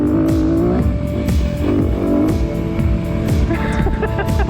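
A Honda CRF150F dirt bike with under 15 horsepower accelerates hard along an enduro track straight, its engine droning loud and close with rising and falling pitch throughout.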